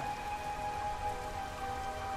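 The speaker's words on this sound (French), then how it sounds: "C'est l'heure de la pluie." Rain pattering across the water in the fishing video game Dredge, a continuous soft hiss of drops beneath a faint sustained tone, with no talking.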